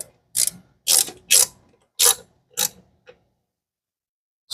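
A ratchet snugs an intake manifold bolt on a 1983 big block Foxbody Mustang GT, six or so close, sharp clicking bursts in quick succession, then quiet.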